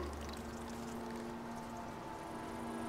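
A river flows in the survival game Icarus, a soft continuous rushing and trickling of water heard quietly and evenly throughout.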